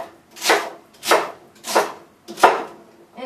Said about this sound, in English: I'm just going to roughly chop up the celery